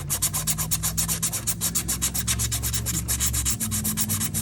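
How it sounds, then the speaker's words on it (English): Rapid, rhythmic rasping of sandpaper polishing a spinning metal shaft from a Ford 8N tractor, steady and close, over a low motor hum. "come in with sandpaper. Go ahead and we're gonna polish our shaft."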